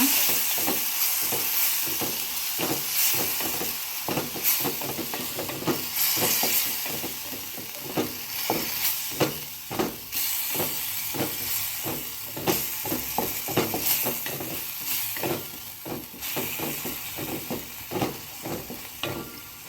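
Rasam simmering with tamarind juice and jaggery being stirred in, a steady sizzling hiss with repeated soft stirring knocks in an even rhythm, close and alone with no talk.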